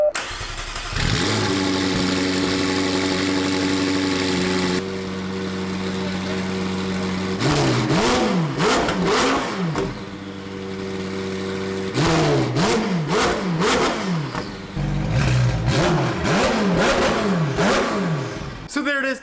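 A McLaren 720S with a newly installed exhaust fires up from cold, catching with a loud roar and settling into a steady idle before sharp rising and falling revs, close and loud.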